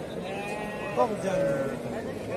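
Sheep bleat against a busy background murmur of voices and farmyard noise at a livestock sale, a few wavering cries at moderate distance.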